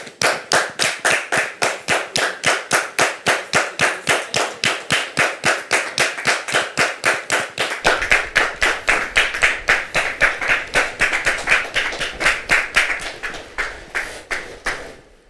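A studio audience claps in a steady, even rhythm to welcome guests onto a talk show. The beat is unbroken and fairly loud for about fifteen seconds and grows slightly fuller halfway through.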